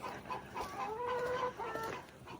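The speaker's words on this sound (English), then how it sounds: "Chickens." Chickens clucking close by, a run of soft, throaty clucks and drawn-out squawking calls at a moderate level, with light background noise.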